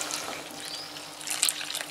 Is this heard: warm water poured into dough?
yes